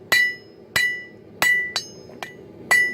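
Light hammer blows on a Damascus steel billet, six ringing metallic strikes at an uneven, unhurried pace, each clang decaying quickly, close and clear with no talking.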